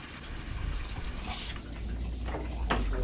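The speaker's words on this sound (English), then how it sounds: "that water's running out clear underneath there" Water drains out clear from under a Vauxhall Vivaro van, running and splashing steadily close by, a continuous trickling flow with a brief louder gush partway through.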